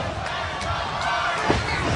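Wrestling arena crowd in Nashville at a Lockdown event, a steady loud roar of many voices filling the space, with a brief thud partway through.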